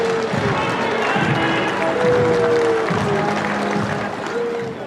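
A vast crowd gathered along the route of Baroness Thatcher's funeral procession to St Paul's, producing a dense, continuous roar of applause mixed with jeers and booing, with music threading through the din.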